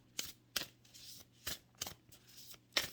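Cosmic Journey oracle cards shuffled by hand nearby, a series of about six short, crisp riffling bursts at uneven intervals, quiet and heard alone.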